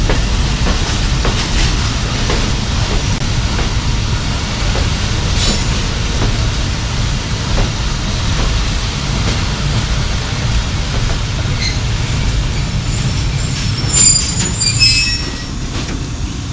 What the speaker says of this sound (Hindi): दखड़ मंडी रेलवे स्टेशन के ऊपर अप्रोच किया है जाफर एक्सप्रेस ने